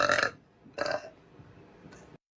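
A woman burps in close succession: two short, loud belches followed by a fainter third one, each clipped and abrupt, with quiet gaps between.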